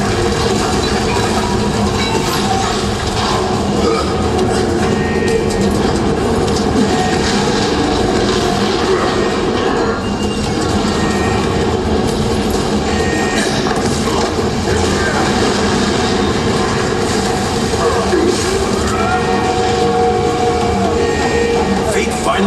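Cargo train passing in a video game shown at a press conference, a loud, continuous rumbling and rattling roar that stays steady for the whole stretch.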